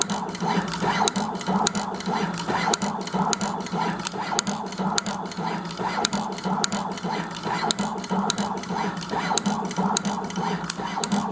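An SMT PCBA assembly machine runs steadily and noisily, with a dense mechanical whir and rapid, evenly spaced clicking that continues throughout, close and alone.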